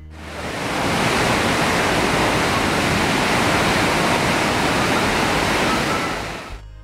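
Loud, dense roar of rushing water in Saklikent canyon, Turkey, a mountain river flowing toward the Mediterranean, heard close and continuous, fading up at the start and tapering off at the end, with no voices.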